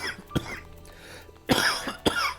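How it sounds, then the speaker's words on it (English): A person coughs three times, one single cough followed by a pair, harsh and close, with quiet pauses between them. "This cough is so much fun."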